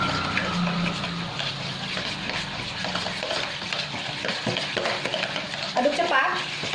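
Pempek fish dough being stirred quickly by hand in a bowl with ice water, a continuous wet slapping and churning texture with occasional utensil knocks and a few brief clinks near the end.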